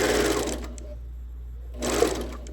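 A sewing machine stitching a quilted kite wall hanging runs in two short close bursts of fast, steady whirring, with a quiet pause between them.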